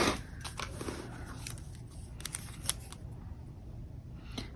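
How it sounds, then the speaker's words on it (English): Scissors snip through washi tape in a quiet room, several short crisp cuts close by, spaced irregularly, with no voices. "I could probably cut it in half."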